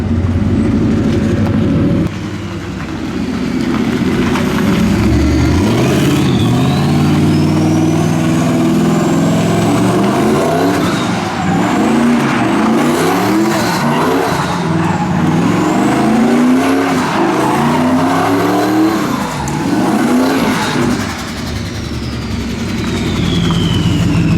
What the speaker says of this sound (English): Let's see if it'll do a donut.